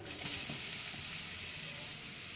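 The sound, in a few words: vegetables being sautéed on high flame in a pan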